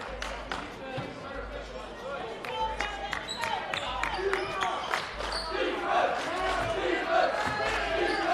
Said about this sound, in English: Warriors crowd and bench loud here.